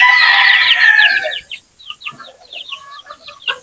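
Chickens and young chicks in a backyard flock, including one-month-old crossbred birds, cluck and cheep in dense overlapping calls that thin into scattered, clipped clucks, fairly close and loud with no talking.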